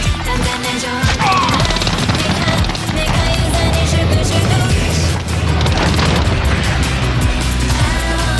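Grenade blast in Call of Duty Modern Warfare multiplayer, one heavy boom landing amid a loud, continuous barrage of game gunfire, explosions and crashing effects.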